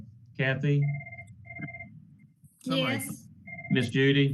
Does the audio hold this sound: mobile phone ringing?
yes